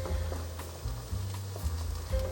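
Potato and mushroom pancakes frying in a pan after being flipped: a faint, steady sizzle of oil with a few soft shifting and scraping touches, close by and without voices.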